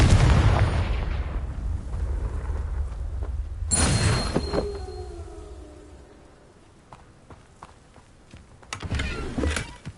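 A Confringo explosion spell goes off in Hogwarts Legacy: a loud blast opens, a second sharp burst follows midway with a ringing tail, then quieter rumbling and another burst near the end.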